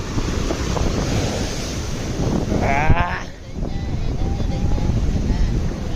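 Surf washing onto a seashore near Dwarka, a steady broadband rush of waves with wind buffeting the microphone and a brief bleat-like tone midway, voices talking faintly underneath.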